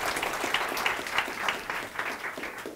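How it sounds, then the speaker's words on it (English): A crowd at a conference applauding for a few seconds, a steady patter of many hands clapping at moderate volume, with no voices over it. "let's give Darren a round of applause."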